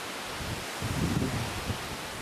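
Strong wind rushing through tree leaves on a seaside village path in Sinan, South Jeolla, a steady loud broadband rustle that swells slightly partway through, with no voices.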